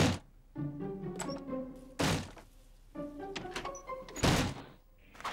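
Several loud door slams and thuds land in quick succession in a Cramp Twins cartoon, with tonal ringing and clatter between the bangs.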